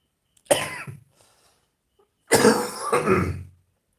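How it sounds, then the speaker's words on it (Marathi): Two separate bursts of coughing, close and fairly loud, with a short silence between them. "काय खोकला येतोय मला"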